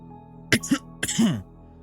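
A man clears his throat and coughs a few times into a rag, close and fairly loud, in short rough bursts over about a second, imitated vocally by a storyteller.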